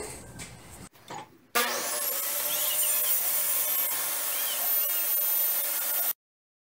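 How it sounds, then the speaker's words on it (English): A table saw with a pre-spaced jig cuts wooden dowels from an old crib, one steady, loud whine of blade through wood lasting several seconds after a brief rustle, then stopping abruptly. "just cut it over and over again with this already pre-spaced table saw"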